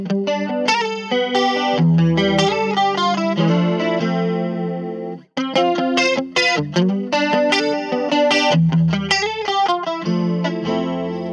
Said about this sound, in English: This one actually kind of sounds like the 80s to me.